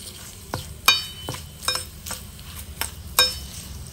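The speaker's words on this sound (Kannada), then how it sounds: "ಚೆನ್ನಾಗಿ ಇದನ್ನು ಹುರ್ಕೊಳ್ಳೋಣ." Mustard seeds and dried buttermilk chillies frying in hot oil in a pan, with scattered sharp pops and crackles spaced irregularly over a low sizzle, close up, plus the faint scrape of stirring.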